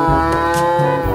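A blue toy cow gives a short electronic mooing sound, loud and steady for about a second, with no speech over it.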